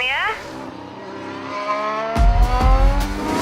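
A Red Bull RB20 Formula 1 car's engine whines and shifts pitch as it passes, followed by deep rumbling bursts of engine noise up close.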